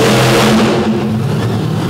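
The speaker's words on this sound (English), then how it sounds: "as Buddy Tompkins rolls out in Plain Crazy" A dirt-track race truck at a 2023 All Star Series race in Davie, Florida revs hard and close as it rolls out, a loud continuous engine roar that dominates the whole short clip.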